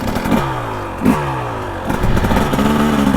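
A two-stroke dirt bike engine revs up repeatedly in short bursts, loud and close, with rising pitch sweeps and mechanical clatter between pulls.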